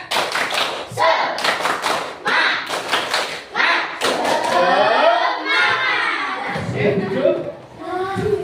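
A school class performs the rhythmic 'tepuk semangat' spirit clap, with a run of loud, sharp claps in a set pattern. Children's voices chant and shout along, and an adult voice follows.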